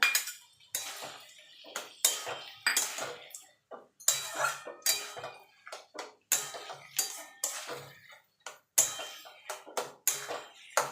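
Kochu shaak (taro leaves) with grated coconut and chickpeas being stirred in a pan: a spoon or spatula scrapes and clinks against the metal in quick, irregular bursts, close and clear, with short pauses between strokes.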